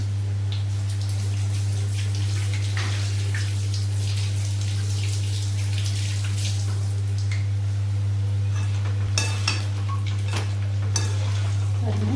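Kaara sev frying in hot oil gives a continuous bubbling sizzle under a steady low mains hum, with busier crackling and light stirring clatter toward the end; no voices.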